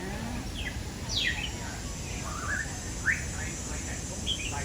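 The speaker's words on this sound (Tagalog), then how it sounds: "Maririnig mo yung huni ng ibon." Several short, high chirping bird calls scattered over a steady background hum in Kowloon Park, Hong Kong, moderately distant and not very loud.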